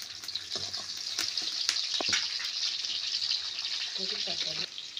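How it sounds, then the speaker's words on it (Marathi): Green chilies and garlic frying in hot oil for a village-style moong dal tempering: a steady, bright sizzle with occasional stirring clinks and scrapes, and a voice speaking briefly near the end. "तेल टाकून घेतल्यानंतर मिरच्या आणि लसूण टाकलाय, चांगलं परतून द्यायचं ना आजी"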